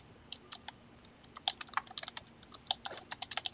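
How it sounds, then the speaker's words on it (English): Quick, light keystrokes on a computer keyboard enter search terms, a soft close-up patter of taps that starts sparse and then speeds into a steady run, heard alone in a quiet room. "So I'll type that in here."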